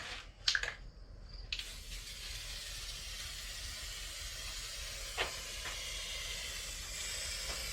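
An aerosol can spray-paints the bumper of a Buick Reatta, giving a sustained hiss that runs for several seconds after a few sharp clicks and rattles at the start, with another brief clunk midway.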